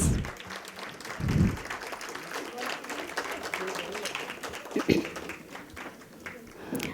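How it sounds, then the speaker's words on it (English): A hall audience applauds dignitaries walking onto the stage at an association's centenary celebration, sustained clapping throughout with a few louder bursts and some voices in the crowd. "A big round of applause, please."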